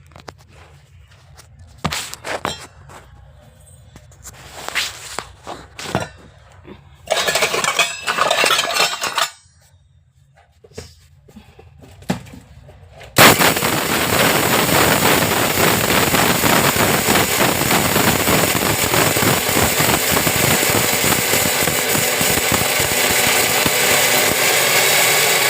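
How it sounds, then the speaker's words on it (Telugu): Mixer grinder grinding drumstick leaves, curry leaves, dried chillies and salt into a powder: clinks and handling of the jar first, then the motor starts and runs loud and steady to the end. "మిక్సీ పట్టాను."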